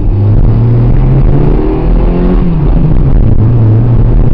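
A 1993 Mazda MX-3 engine runs loud and close in a steady, rough idle, with its pitch rising and falling slightly as it is revved a little.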